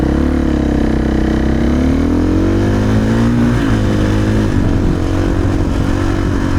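A motorcycle fitted with a GET ECU on its first map accelerates hard, engine pitch climbing steadily through the gears in a loud, continuous close-up roar.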